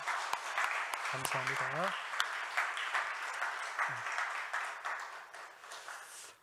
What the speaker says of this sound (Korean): 뜨거운 환영의 박수를 좀 보내주시기 바랍니다